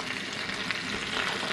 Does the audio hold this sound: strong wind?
no